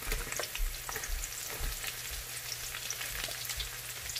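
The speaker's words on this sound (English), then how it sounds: "Next, we're going to add the onions." Onions with garlic sizzle and fry steadily in a pan, a continuous crackle with a few soft stirring scrapes, close by, no voices.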